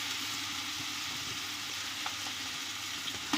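Ginger-garlic paste frying with onions in a pot for Hyderabadi biryani, giving a constant crackling sizzle heard close up, with a few light spoon taps near the end and no talk.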